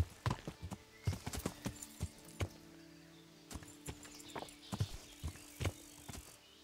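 A steady, close clip-clop of a horse's hooves walking in Kingdom Come: Deliverance, irregular hoofbeats running throughout over a low hum, with a faint hint of a whinny.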